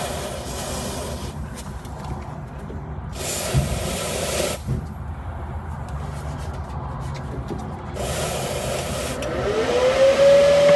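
Repeated bursts of aerosol spray hit the two temperature sensors of a bus heater, each hiss lasting about a second, with quieter gaps between them and a rising tone creeping in near the end.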